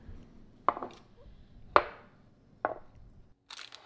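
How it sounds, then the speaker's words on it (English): A kitchen knife, not serrated, slices through chilled keto fudge on a cutting board: three crisp separate chops evenly spaced about a second apart, close and clear, each ending in a short knock against the board. "Using a kitchen knife, not a serrated knife, he cuts evenly across the middle"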